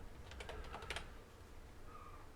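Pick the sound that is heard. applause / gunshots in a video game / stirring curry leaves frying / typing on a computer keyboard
typing on a computer keyboard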